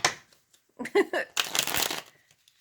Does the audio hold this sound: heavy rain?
no